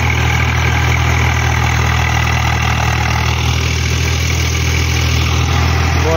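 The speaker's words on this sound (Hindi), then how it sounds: "देखो गाय, पानी में चल रहा है ट्रैक्टर।" A Swaraj 744 FE tractor pulling a trolley drives through a water-filled field, its engine a loud, steady, close diesel rumble with a constant low throb and no break.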